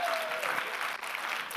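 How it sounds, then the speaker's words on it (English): Audience applause for Coach Cass at a speaking event, steady dense clapping from a crowd throughout, moderately loud and without talk. "Give her a round of applause."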